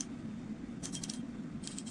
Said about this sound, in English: You can hear the clicks, the rotating.